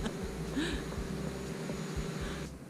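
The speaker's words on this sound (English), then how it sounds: "If you happen to hear some buzzing in the background, there are several drones flying overhead." Several drones flying overhead on a desert hiking trail at Lost Dutchman State Park give a thin, insect-like buzz drifting in the background over wind and rustling, moderately loud and steady.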